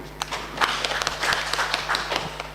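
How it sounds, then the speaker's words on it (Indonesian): Congregation clapping together during a Sunday church service at GKPS Bekasi, a steady run of handclaps close by with a low hum underneath, no voices over it. "Kita tepuk tangan dulu."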